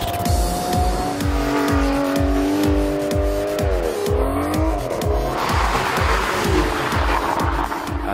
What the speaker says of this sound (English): The Vantage S, once you put it into sport mode, it really takes off.